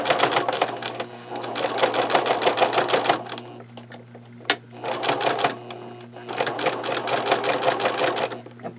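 A sewing machine stitches a seam on a denim traveler's notebook cover, running loud and close in several rapid bursts separated by brief pauses.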